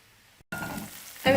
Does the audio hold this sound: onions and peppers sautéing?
yes